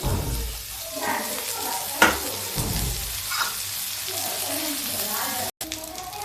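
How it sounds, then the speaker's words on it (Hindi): Onions frying in a pan for a quick bitter gourd dish give a steady close sizzle with a few stirring clatters. A voice talks faintly underneath for part of it. "ये प्याज फ्राई करते हैं। प्याज को हम ज़्यादा फ्राई नहीं करेंगे।"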